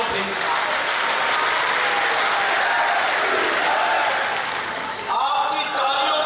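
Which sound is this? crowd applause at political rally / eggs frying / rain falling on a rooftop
crowd applause at political rally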